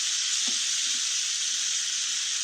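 Tomatoes hit a hot pan and sizzle in a steady, loud hiss of frying, with no talk over it.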